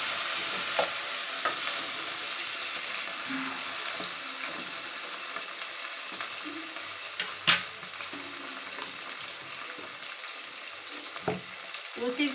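Tomato added to a frying pan while making chitranna, with steady sizzling frying and occasional scraping stirs throughout, fairly close and continuous with no talking.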